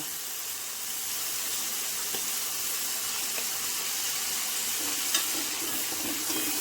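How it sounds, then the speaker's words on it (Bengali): Poppy seed paste frying in a pan over a raised gas flame, a constant hissing sizzle with light stirring scrapes, moderately loud and uninterrupted by talk. "পোস্ত বাটাটা দিয়ে একটুখানি এটা অল্প একটু ভেজে নিই"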